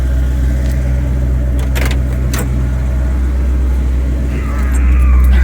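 A car idling with a slightly high idle as it sets off on a test drive after a repair, steady low engine hum throughout, a couple of brief clicks midway and a faint rise in engine tone near the end.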